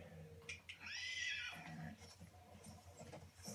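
A horse whinnies loudly in Battlefield 1, one long rising-and-falling neigh up close, with game noise and faint hoof clatter underneath.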